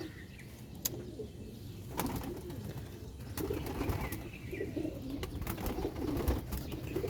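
Teddy pigeons of an unusual colour coo in low, rolling murmurs, with occasional wing flaps and brief clatters breaking through a steady loft background.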